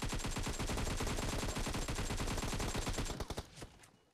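Rapid automatic gunfire rattles nonstop in a battle royale video game, a loud, dense burst of shots that slows into a few last cracks before fading out.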